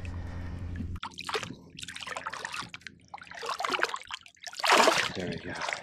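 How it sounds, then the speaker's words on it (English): Water splashes and trickles as a caught snook is held in the current to revive it beside a paddleboard off Sanibel Island, Florida; irregular close splashing bursts throughout, with a louder splash near the end. "Give him some oxygen, get some water flowing through his gills, moving with the current."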